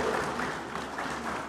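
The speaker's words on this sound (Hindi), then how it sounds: "जोरदार तालियों से इनका स्वागत किया जाए।" Audience applause welcoming an honoree at an awards ceremony honouring community figures: a steady wash of clapping from a crowd, moderately loud and continuous throughout the short stretch.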